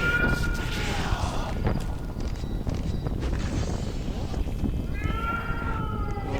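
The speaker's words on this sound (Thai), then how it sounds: "เสียงแมวร้อง" Drawn-out, high cat meows in a zombie video game, rising and falling over a constant noisy rumble, one cry near the start and another near the end.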